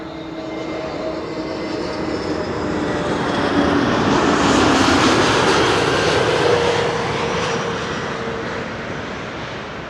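A Transavia Airbus A321neo jet arriving from Malaga roars past, a steady broadband engine rumble that swells toward the middle and then slowly fades, with no voices.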